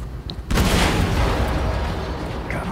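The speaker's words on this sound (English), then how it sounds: "Explosion in der Hangarbucht." A loud explosion booms through a hangar bay in the video game Wolfenstein II: The New Colossus, a sudden blast that rolls on into a sustained rumbling roar with debris-like crackle.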